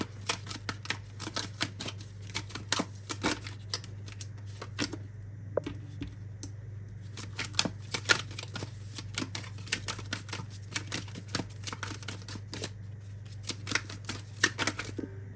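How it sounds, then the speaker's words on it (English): Rapid, papery riffling of tarot cards shuffled over and over in quick bursts, close and steady for a long stretch, with no talking. "I had to do the shuffling off camera"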